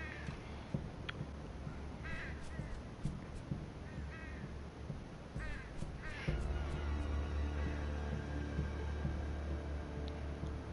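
A crow in the video game Yarny caws in several harsh, repeated calls against a low game ambience, which swells and thickens partway through.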